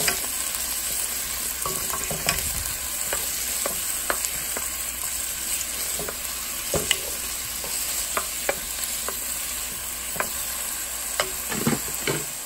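Onion and green peppers sizzle steadily in oil in a pot for chili, with intermittent scraping stirs and clinks of a utensil against the pot breaking through the constant frying hiss.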